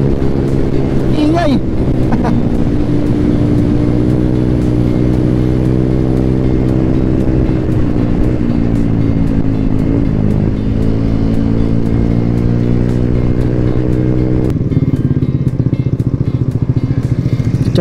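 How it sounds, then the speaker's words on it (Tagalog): A loud motorcycle engine with a noisy aftermarket muffler roars steadily while riding, its droning exhaust note shifting slightly with throttle throughout. "Pagdating ko dun mamaya, binging-bingi na ako dito sa muffler ko."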